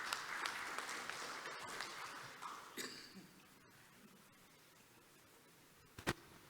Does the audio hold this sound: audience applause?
yes